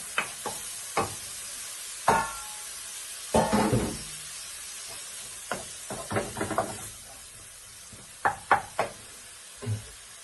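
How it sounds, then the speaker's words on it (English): A spoon stirs curry in a cooking pot with vegetarian couscous and cod, making scattered knocks and scraping clatters at close range, separated by quiet gaps. "So just give this a good old stir."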